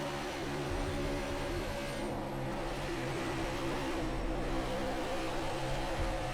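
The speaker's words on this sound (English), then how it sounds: "you can start to hear their engine sounds" NASCAR race car engines in the racing game NASCAR 21: Ignition at Atlanta, a steady droning roar with a few swells as cars lift and accelerate, fairly quiet and heard without speech.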